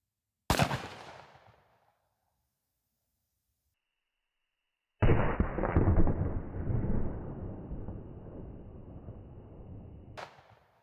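A shotgun fires TSS #6 shot into a gel test block: a sharp, loud single blast that decays quickly, then a few seconds of silence, then a heavier burst with a long rumbling tail and a final click.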